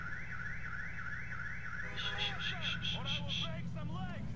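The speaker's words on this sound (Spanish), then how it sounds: "¿Cómo se apaga la alarma?" A car alarm goes off in the video game GTA 4, a rising-and-falling electronic siren that switches to rapid chirping beeps, steady and fairly loud over low game engine rumble, with a voice talking over it.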